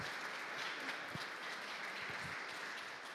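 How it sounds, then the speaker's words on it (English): Audience clapping for student teams at a presentation event, a steady wash of applause throughout, moderately distant and fairly soft. "Big clap for the teams."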